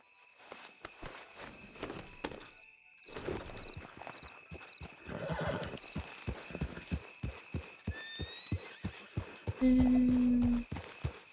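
A horse in Red Dead Redemption 2 walking with a steady clip-clop of hooves that speeds into a quicker gait, broken near the end by a loud, sustained whinny.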